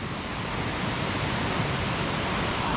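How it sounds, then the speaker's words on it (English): The River Prosen pours over a small waterfall and rushes through a carved gully, a dense, steady roar of water close by with no pauses. "I think this is the River Prosen, and it's a mad little waterfall"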